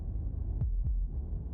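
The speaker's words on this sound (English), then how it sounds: "That was the sound of a heartbeat," Heartbeat from the video game Slay the Princess: deep, muffled thumps, roughly three of them, sound over a constant low hum, close and alone.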